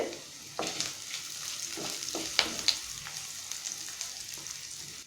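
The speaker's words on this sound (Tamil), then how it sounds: "ஆனியன் நல்லா ஃப்ரை ஆயிடுச்சு." Onion frying in oil for a cauliflower pepper fry, a moderate sizzle with scraping stirs and a couple of sharp clinks of the spoon against the pan, no speech.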